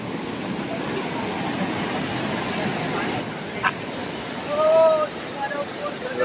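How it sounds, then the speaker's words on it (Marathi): Monsoon waterfall at Malanggad: a constant broad rushing roar of falling water fills the background while people nearby talk and call out over it. "आम्ही आलेलो आहे धबधब्यावरती."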